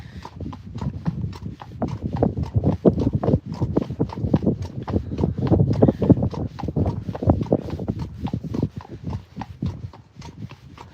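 Hooves of a black Friesian mare clip-clop steadily at a walk during a hack, close and continuous with a regular rhythm, with faint low background noise.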